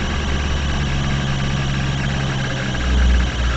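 A truck engine idles steadily with a low, continuous rumble and vibration, swelling briefly louder near the end.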